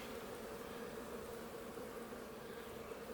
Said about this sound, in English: God, these bees are so nice.